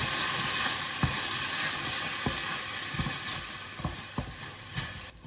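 Prawn rice sizzles in a hot pan while a utensil stirs it, a steady, close frying hiss broken by periodic scraping knocks about once a second, with no talking.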